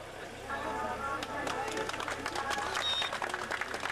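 An audience at an outdoor car tuning show claps for a prize-winning grey Peugeot 309 ATK, a spread-out, fairly distant patter of applause from a crowd, with a voice heard over it.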